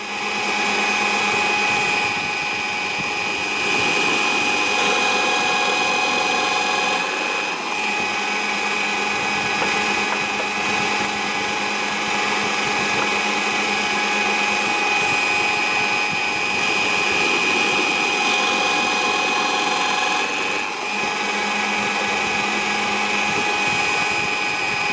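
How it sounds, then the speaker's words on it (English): A power drill with its bit boring holes through wooden coasters, a loud steady whine that runs continuously with slight dips in pitch as the bit bites. "just before the point of the drill bit comes through the bottom"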